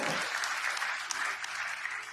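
A congregation at an evening church prayer service applauds with a dense wash of clapping, moderately distant and sustained throughout.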